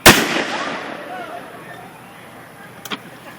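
A single loud ship's cannon fires close by, a sharp blast that rolls off into a long fading rumble, with a faint knock near the end.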